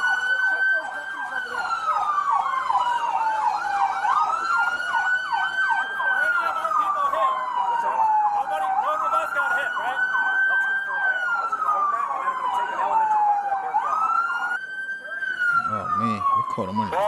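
Police sirens wail continuously in long rising and falling sweeps with a rapid warbling layer, loud and close for the whole stretch, with a brief low burst near the end.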